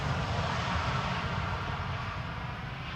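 A KLM airliner at Schiphol airport, producing a steady, loud broadband jet engine roar that holds constant throughout, with no talk.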